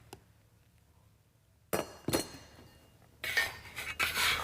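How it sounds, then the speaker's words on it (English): Macaroni stirred in a boiling pot on a home stove, metal spoon scraping and clinking against the pot in several bursts after a quiet start, close and fairly loud. "My macaroni needs to be stirred."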